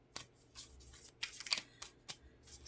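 Sacred self-care oracle cards shuffled close by, a quick string of soft papery riffles and slaps, faint and uneven, with no voice over them.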